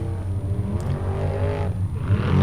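A Formula Offroad buggy's engine revs hard and steady as it climbs a steep dirt slope, a loud, close, continuous roar with rising and falling pitch.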